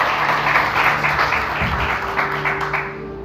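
A church congregation applauds during a sermon, a dense steady wash of many hands clapping at moderate loudness, with a faint sustained musical tone underneath, fading out at the end.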